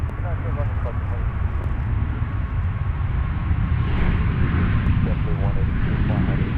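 A fixed-wing airplane at Nashville International Airport, its engines producing a loud, steady broadband roar that swells slightly toward the end, with a radio voice talking over it.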